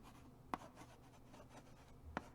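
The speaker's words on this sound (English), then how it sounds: "I can't tell just by the noise of the chalk alone." Faint scratchy strokes with two sharp taps a couple of seconds apart, quiet and close, like chalk writing on a board.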